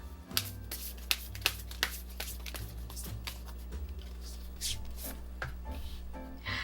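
Tarot cards are shuffled and drawn by hand in a quiet room, with crisp riffling bursts and sharp slaps of cards set down at uneven intervals, close and fairly soft.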